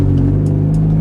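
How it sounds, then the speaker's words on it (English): A Chevrolet Cobalt SS engine revving loud and close on a second gear pull, a steady droning roar with strong low harmonics that holds through the whole moment. "I guess I'm gonna do a second gear pull"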